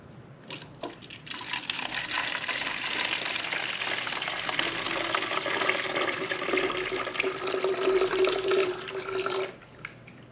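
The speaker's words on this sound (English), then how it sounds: "Let's pour this in and see what happens." Sodium silicate liquid, known as water glass, pours steadily into a plastic container with a continuous splashing, gurgling stream lasting about eight seconds before it stops abruptly, with no talk.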